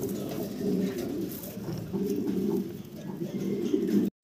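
A pair of red helmet pigeons coo close by in low, throaty, pulsing phrases that repeat steadily before cutting off abruptly at the end.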